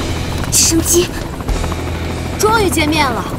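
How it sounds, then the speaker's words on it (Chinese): A cartoon helicopter flying in a children's animated series, a loud steady buzzing rotor drone under animated voices with chirpy squeaks and sliding effects. "直升机。"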